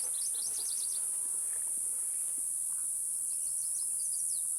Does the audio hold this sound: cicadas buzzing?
yes